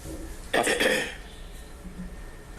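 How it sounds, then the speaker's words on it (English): A single short, rough throat clearing rises sharply over quiet room tone, then fades back to near silence. "that was me clearing my throat"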